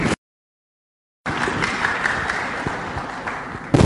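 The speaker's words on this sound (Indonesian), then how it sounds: "tepuk tangan untuk Mas" An audience applauds at an Islamic commemorative gathering honoring Gus Dur; after a brief dead-silent gap, dense, steady clapping comes in and holds at full strength to the end.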